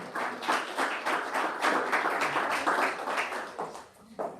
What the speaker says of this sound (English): Big round of applause for Julia.